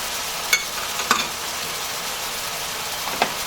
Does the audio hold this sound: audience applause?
no